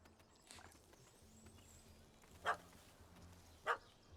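A dog in the video game The Witcher 3 gives two short, sharp barks about a second apart, standing out over quiet ambient game sound.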